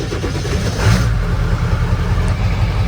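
A stock Ford 7.3L Powerstroke diesel cranks over and settles into a loud, steady, rumbling run, heard close up and alone.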